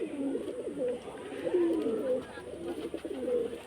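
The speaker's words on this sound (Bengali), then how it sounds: "পায়রা, দেশি পায়রা," Desi pigeons and a fantail pigeon coo repeatedly outdoors, low rolling calls overlapping one another at a steady moderate level throughout.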